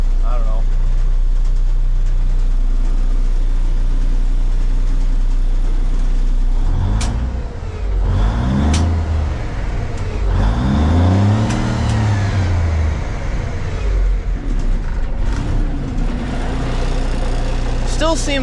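Old army truck with a Cummins diesel engine idling, cold: a steady low loud rumble held close throughout, with someone talking over it partway through.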